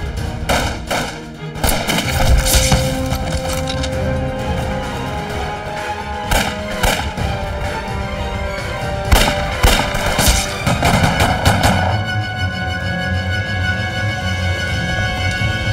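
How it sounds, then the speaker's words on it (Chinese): A war-film battle scene with guerrillas ambushing Japanese troops on a road, full of loud, dense gunfire: rapid volleys and single cracking shots, bursts and thuds, continuous and close throughout. "枪声越来越激烈了。"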